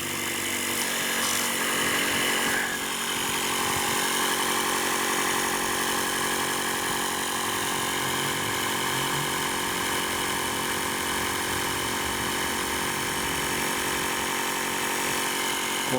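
A small electric air pump inflates the air bag suspension on a 1929 Chrysler, a steady, loud buzzing drone with a constant mechanical hum that runs unbroken throughout, with no speech.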